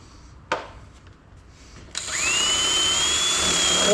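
Power drill with a bit boring into wood, a brief tap then a sudden loud high whine that holds steady, close to the microphone.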